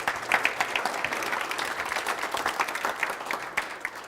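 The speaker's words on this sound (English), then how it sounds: "Give a nice round of applause." Audience applauding at a live hypnosis stage show, a crowded patter of many hands clapping at moderate loudness, steady throughout with a few sharper claps standing out.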